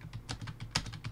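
Rapid computer keyboard typing, a quick irregular series of sharp plastic key clicks at close range with one louder stroke, quiet and alone.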